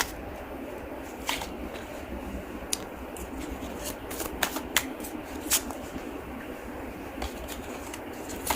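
Tarot cards being shuffled, a steady papery riffle with scattered crisp snaps and flicks, close and moderately quiet, with no talking.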